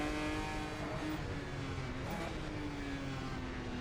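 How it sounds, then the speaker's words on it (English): A classic race car's engine roars steadily and loud on a circuit during a historic motorsport event, shifting down hard with dense mechanical drone throughout, other cars close behind. "Oh, absolutely abusing this engine with those downshifts."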